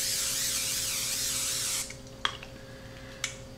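A steady hissing spray from an aerosol can of cooking spray lightly coating a cookie sheet lasts nearly two seconds, followed by a couple of soft clicks.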